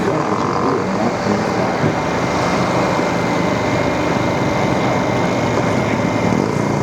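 A giant RC P-47 model warbird, "Pistol Packin Mama," comes in to land at the Top Gun 2021 event. Its engine and propeller make a loud, steady drone throughout.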